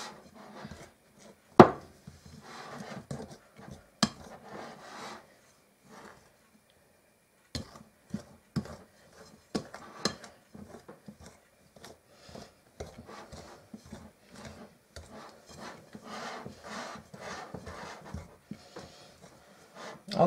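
Pie crust mix blended by hand until coarse, giving soft scattered rubbing, scraping and tapping with a few sharper clicks, steady and fairly quiet with no talk.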